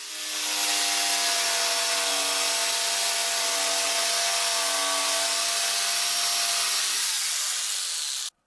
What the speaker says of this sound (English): I move the strip of plywood away and I cut the board using the same jigsaw blade.